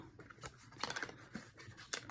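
Quiet snips and scratchy rustles from scissors cutting open a cardboard subscription box, several short irregular cuts close by with soft handling noise between them, no talk.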